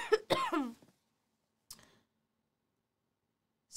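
A single sharp cough up close, then a faint second one a moment later, with quiet between.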